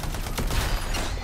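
Rapid turret gunfire in the Anthem video game, a dense burst of loud overlapping shots filling the brief moment, with no voice over it.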